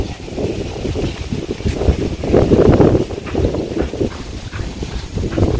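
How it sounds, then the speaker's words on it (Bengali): Cold wind blowing across an open village boat on a clear afternoon, making a steady, rumbling buffet against the microphone that swells in the middle and continues without a break. "কি ঠান্ডা বাতাস না,"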